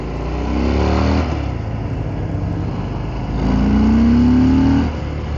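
A 2023 Harley-Davidson Fat Bob 114 motorcycle engine revs up twice close by, each throaty blip rising in pitch over a steady deep idle rumble.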